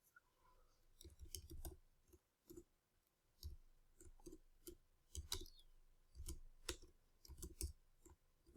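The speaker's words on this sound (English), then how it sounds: "let's type in this line of command." Someone types a command on a computer keyboard, with soft, close key clicks arriving in short irregular clusters. Quiet gaps separate the clusters.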